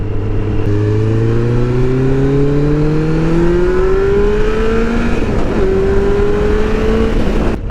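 A 2012 Kawasaki Concours 14 sport touring motorcycle with a variable valve timing engine revs up, its pitch climbing steadily through the range, loud and close, with a brief shift before rising again.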